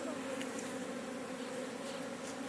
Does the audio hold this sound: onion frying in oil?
no